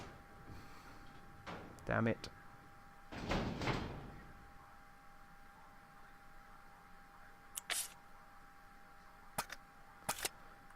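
Door opening in the survival horror game Resident Evil 0: a short sliding, creaking thud followed by sharp clicks and clacks, fairly quiet, with someone speaking briefly over it.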